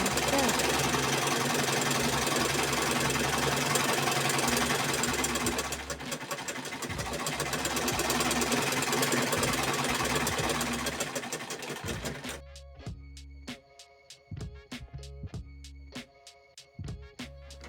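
Repaired sewing machine running with a rapid, loud mechanical rattle and hum that eases and picks up, then stops; the last seconds bring sparse clicks and knocks.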